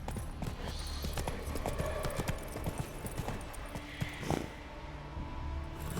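Roach the horse gallops in The Witcher 3: Wild Hunt, hooves clopping in a quick, steady rhythm, close and moderately loud, with a few heavier thuds among them.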